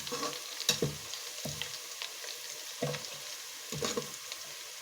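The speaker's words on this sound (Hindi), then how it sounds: "लहसुन को भी हम इसमें अच्छे से पका लेंगे ताकि इसका कच्चापन जो है वो ख़त्म हो जाए।" Garlic sizzles in oil in a pot for Peshawari matar pulao, a steady close frying hiss broken by several sharp bursts as it is stirred.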